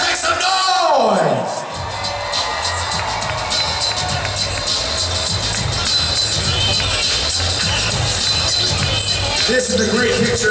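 Large arena crowd at the MGM Grand in Las Vegas cheering and whooping at a boxing weigh-in, a loud continuous roar of voices and shouts filling the whole stretch.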